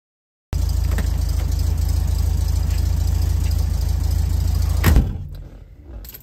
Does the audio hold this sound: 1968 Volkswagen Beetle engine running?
yes